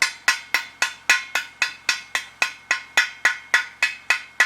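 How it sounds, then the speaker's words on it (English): A chipping hammer knocks slag off a weld root pass laid with 1/8 inch 7018 rod, striking in a fast, even run of about fifteen sharp metallic taps, close and loud with no talk. "Root pass is always a little harder to chip out."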